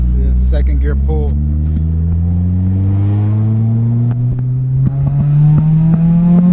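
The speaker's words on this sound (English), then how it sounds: "Second gear pull." A 2000 Honda Civic Si engine pulls hard through second gear, its steady rising drone climbing in pitch over several seconds, loud and close, with brief talk near the start.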